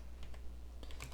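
A few soft keystrokes on a computer keyboard tap out in a brief irregular cluster, faint and close in a quiet room.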